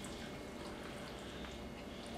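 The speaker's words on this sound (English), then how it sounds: "we have 1 cup of milk, which I'm just going to pour straight over" Milk pours steadily over a potato bake mixture in a soft, continuous trickling stream, faint and close, with no voices.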